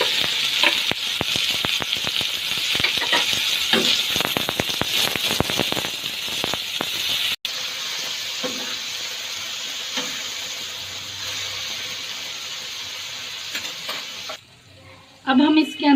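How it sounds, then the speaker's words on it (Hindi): Chopped tomatoes frying in a pan with garlic and ginger for tawa mutton, a loud, steady close sizzle with stirring scrapes throughout, dropping off near the end before a brief burst of stirring. "अब लहसुन अदरक को 1 मिनट कुक करने के बाद हम इसके अंदर 3 टमाटो में ये चॉप करके ऐड कर देंगे"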